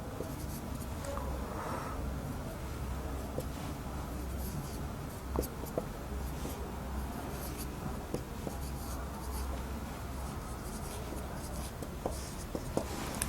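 Pen scratching steadily across paper while the address heading of a letter is written, a continuous close, quiet scribbling with small taps and strokes over a low room hum.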